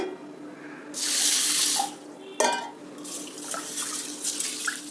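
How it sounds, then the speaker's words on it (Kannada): Running tap water rinses half a cup of mung beans in a kitchen sink, with a loud gushing burst, a pause, a sharp splash, then a second lighter stream of trickling and splashing, and no talk. "ಹೆಸರು ಕಾಳು ಅರ್ಧ ಲೋಟ ಹಾಕಿ ಎರಡು ಸಲ ತೊಳಿತೀನಿ"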